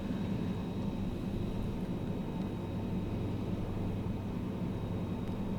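Steady, droning airplane engine noise in Microsoft Flight Simulator as the throttle is pushed up, a constant broadband hum that holds even and fairly loud throughout with no voices.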